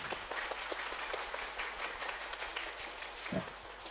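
An audience claps at a meditation gathering, a dense, steady patter of many hands at moderate distance that fills the whole stretch.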